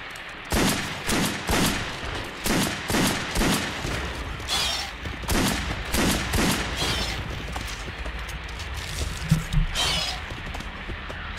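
Rapid gunshots from a handgun in Silent Hill Homecoming, a steady series of sharp, loud bangs close together, then a few more scattered shots, with little talk.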